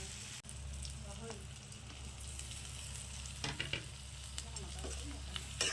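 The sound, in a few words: pork frying in oil with onion, ginger, garlic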